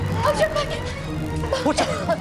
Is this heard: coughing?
yes